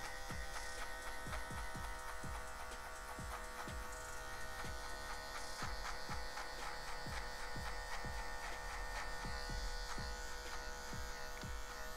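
Electric hair clippers fitted with a number 1 guard buzz steadily through a barbershop fade, with repeated short strokes cutting through the hair in a regular rhythm, loud and close throughout.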